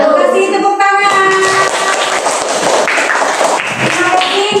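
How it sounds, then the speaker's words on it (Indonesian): Audience clapping at a university group presentation session, with claps and thuds mixed under a sustained tonal hum and some voices, loud and close. "Kasih tepuk tangan."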